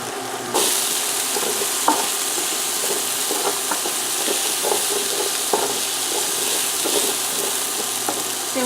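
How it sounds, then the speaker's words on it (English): Onions sweat in a pot for an Irish lamb stew, a constant loud sizzle with scattered scraping knocks as a utensil stirs them. "we're going to put our onions in here and get them sweated until they're tender"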